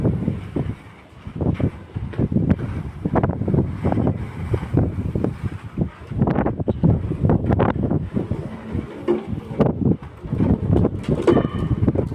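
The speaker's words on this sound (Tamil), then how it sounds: "இப்போ ரொம்ப காற்றடிக்குது" Wind buffets the microphone outdoors during roller skating, in loud, uneven gusts for the whole stretch, a steady low roar with no one speaking.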